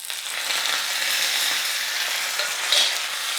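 Mustard seeds and dried chillies sizzling in hot tempering oil, a steady soft crackle and hiss up close with no talking.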